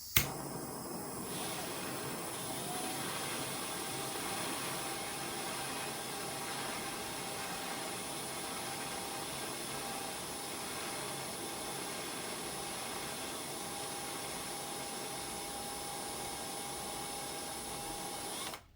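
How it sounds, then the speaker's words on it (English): A torch burns on full blast while annealing 6.8 Western brass cartridge cases, making a constant, loud, close roaring hiss that holds level throughout after a sharp click at the start. "I'm just gonna have the torch on full blast"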